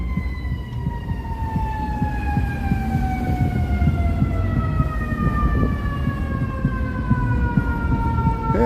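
Emergency vehicle sirens wail on a Chicago street near Millennium Park, a steady descending tone sweeping slowly downward for several seconds, loud over dense city traffic rumble with no talking.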